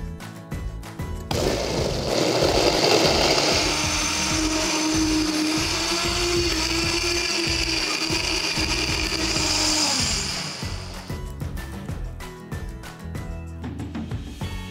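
A KitchenAid Pro Line blender whirs steadily, blending a cucumber and kale smoothie with ice. The motor runs at a loud, even pitch for several seconds before winding down.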